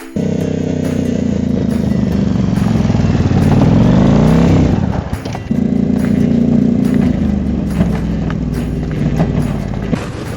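A loud motorcycle engine pulling a chariot drones steadily and revs up and down, its pitch rising and falling, with a brief dip midway before it picks up again.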